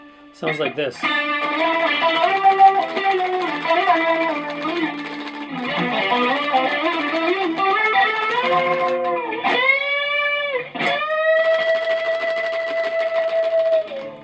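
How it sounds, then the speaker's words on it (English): Electric guitar in a lesson on a live song performance: a single note slides up while the pickup selector flicks between the outer positions, giving a wobbling, wah-like tone, with a brief spoken phrase at the start. "we're going to be flicking the pickup selector back and forth between the outer positions"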